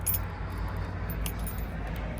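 Car keys for a 2007 Audi A3 jangle softly and continuously with faint metallic clinks over a low background rumble, close by and quiet.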